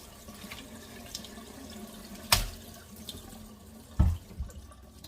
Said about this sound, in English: Firstly, I'll start by washing my pineapple.